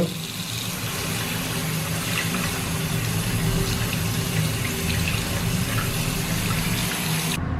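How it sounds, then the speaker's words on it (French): A plastic Malaysian ringgit banknote is held under a running kitchen tap, and a steady, close rush of faucet water pours into the sink without a break. "Tu peux le passer sous l'eau tranquillement et le billet est totalement intact"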